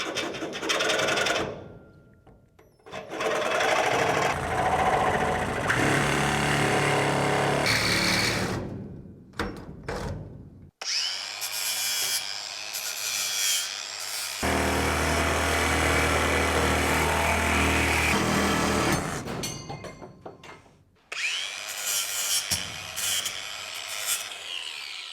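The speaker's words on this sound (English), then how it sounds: "Hey, I got a new reciprocating saw blade." A reciprocating saw with a new Yellow-brand blade cuts through a bus window frame, giving loud, sustained buzzing rasps in several long bursts separated by brief pauses, close up with no talking.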